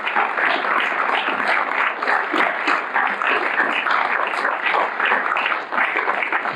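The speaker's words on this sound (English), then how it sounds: "it's now my pleasure to have you give all these artists a round of applause" Sustained applause from an audience at a community art show, dense and steady for several seconds, with no voices rising above the clapping.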